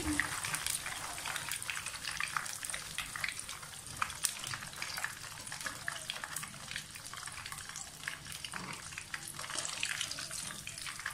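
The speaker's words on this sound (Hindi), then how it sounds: "कुछ रह गए हैं, वो भी फ्राई हो रहे हैं" Chicken donuts fry in hot oil with a dense, continuous, even sizzle, close and steady throughout.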